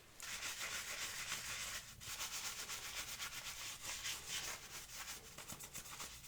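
Parts from a urine-damaged Nintendo Switch Lite scrubbed in soapy water, a steady wet brushing rub that runs continuously and close, with a brief dip near two seconds.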